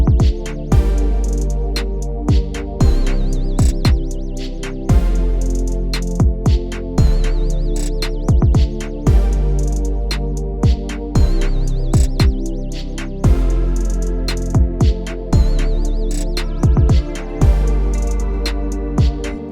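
A looping electronic beat mixed in FL Studio, with thumping low hits and punchy brass-like stabs over a sustained synth pad, repeating steadily and loud.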